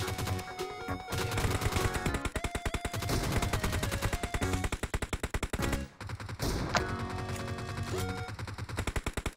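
Rapid automatic gunfire in PUBG: loud, evenly spaced shots in long continuous bursts, with a brief pause near the middle before firing resumes, over game music and tones, with no talking.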